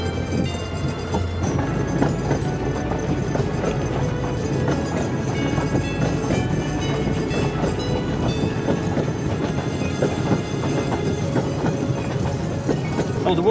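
A heritage narrow-gauge train runs along a railway line through farmland, its wheels clicking steadily over the rail joints as a continuous rolling rumble, with no talk heard.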